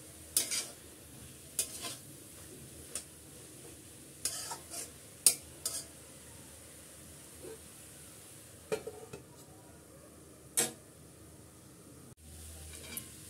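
Pointed gourd (potol) fries in a pan as a utensil stirs it, giving intermittent scraping clatters over a soft, low sizzle, with no talking.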